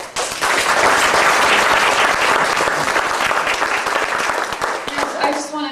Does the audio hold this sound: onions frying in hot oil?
no